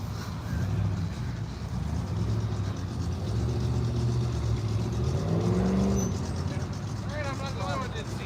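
Cars pulling away from the first route stop of a Miles of Mayhem car show, a steady engine rumble rising as they drive off, with crowd chatter over it.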